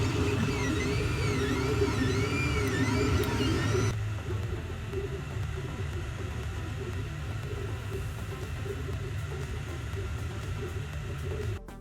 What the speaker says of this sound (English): With the original board, my printer was quite noisy.